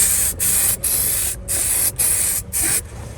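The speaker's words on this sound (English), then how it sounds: "So now we need to top coat it with our SEM Products again like we always do." An aerosol can sprays SEM top coat onto a car armrest in six short, loud hissing bursts separated by brief pauses, close up and with no talking.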